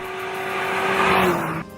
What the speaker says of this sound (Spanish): Esto es una aceleración desde 80 km/h en un espacio de 200 metros, sin carga, solo con el conductor.